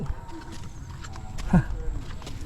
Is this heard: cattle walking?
yes